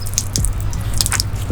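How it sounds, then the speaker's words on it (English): Leftover water spills from a disconnected filter hose of a camper van's water system, giving quick irregular drips and small splashes over a low background rumble, close and fairly loud. "It's going to spill a little bit because it's got water inside the system still."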